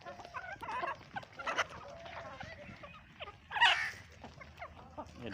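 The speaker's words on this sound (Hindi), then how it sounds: "ये मुर्गा है" A rooster of a large breed weighing about four kilograms, kept among hens on a farm, gives faint clucks and short calls amid other farmyard noise, with a louder call near the middle.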